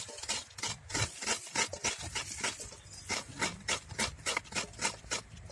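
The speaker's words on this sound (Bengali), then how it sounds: "নারকেল কুড়া দেবো তাই নারকেলটা কুড়ে নিচ্ছি" A coconut scraped by hand for a Bengali shapla dish, heard as quick rhythmic rasping strokes, close and steady, repeating several times a second with brief pauses.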